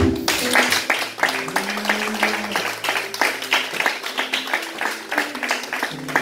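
A church congregation bursts into dense, steady clapping during a service, with sustained low musical tones running beneath the applause.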